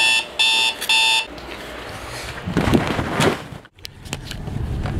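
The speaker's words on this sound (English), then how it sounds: "The alarm's gone off." An alarm clock goes off with three quick bursts of shrill electronic beeping, then cuts out, followed by rustling, shuffling and a door-like thump nearby.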